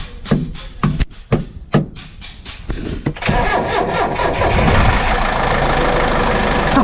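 A diesel Isuzu engine in a tourist bus cold-starts: several loud starter cranks and stumbles, then it catches and settles into a steady, rumbling idle close by.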